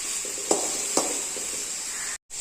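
Chutney ingredients, tomato and dried red chilli frying together in a pan, giving a continuous soft sizzle with two sharp stirring clinks and a brief dropout near the end.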